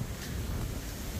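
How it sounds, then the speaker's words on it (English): Steady wind buffets the microphone with a dense, low rumbling roar and no breaks, outdoors beside a lake on a chilly autumn day. "It's very windy"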